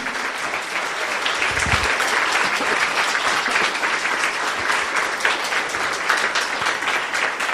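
A church congregation gives loud, sustained applause that fills the space evenly from start to finish, a dense wash of many hands clapping with no talk over it.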